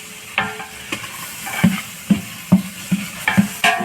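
Ginger paste frying in a pan, stirred with a utensil that scrapes and taps the metal in regular strokes over a soft sizzle, close and clear with no talking.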